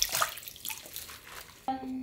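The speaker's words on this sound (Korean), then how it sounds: "이렇게 물기를 쭉 빼주세요" Water trickles and drips as rinsed, salted napa cabbage drains in a basket, with splashy dripping early on and a brief clatter and ring near the end.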